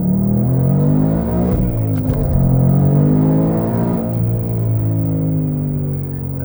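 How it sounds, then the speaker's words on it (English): A 700-horsepower 2020 Mustang GT accelerates hard in first gear, its loud exhaust roaring and rising steadily in pitch through a continuous, deep rumble heard from close by. "you're gonna really hear that exhaust note very differently"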